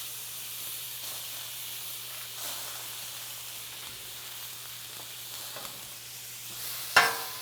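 Butter-basted hoagie rolls sizzle on a hot flat top with a steady, soft hiss throughout, closing with one sharp clatter near the end.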